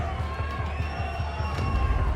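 Crowd at a boxing event shouting over one another in a loud, continuous din, with rhythmic thumps and voices mixed throughout.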